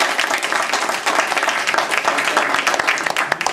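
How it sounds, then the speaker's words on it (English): A crowd at a hometown community gathering in McDonough, Georgia gives a full round of applause, dense steady clapping filling the space without a break. "Let's give all of them a round of applause."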